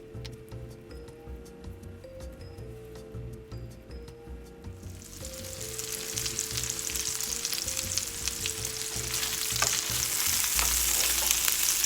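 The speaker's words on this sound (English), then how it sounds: "Okay, here I'm starting them in the frying pan." Mini taco-seasoned meatballs fry in a pan over medium-high heat, the sizzle starting quietly and then swelling midway into a loud, continuous hiss that keeps building under a ticking, tonal background.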